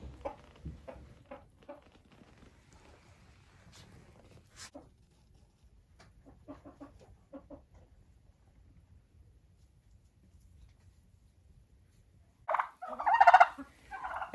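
Turkeys and Marans chickens kept in a greenhouse make scattered clucks and brief calls against quiet, ending in a loud burst of gobbling near the close.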